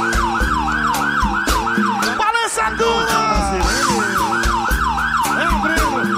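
A looping electronic siren effect cycles rapidly and loudly through a live baião DJ set, its rising-falling wail repeating over thumping beats while a voice shouts over the mix.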